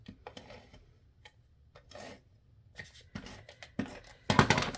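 Paper card stock being trimmed, with a strip cut off the bottom: soft scraping and rubbing strokes, quiet and close, ending in a louder slicing burst.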